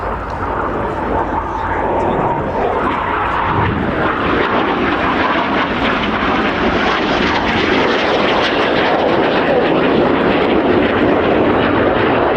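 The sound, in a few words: display jets flying past at an airshow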